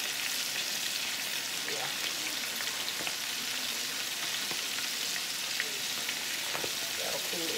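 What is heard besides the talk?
chicken frying in hot grease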